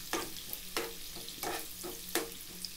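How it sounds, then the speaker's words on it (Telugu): Onions deep frying in hot oil on a high flame for Hyderabadi chicken haleem, a constant bubbling sizzle with four or five sharper stirring scrapes at intervals, moderately quiet. "ఈ ఆనియన్స్ కూడా మనకి రెడ్డిష్ బ్రౌన్ కలర్ వచ్చేంత వరకు డీప్ ఫ్రై అనేది చేసుకోవాలి."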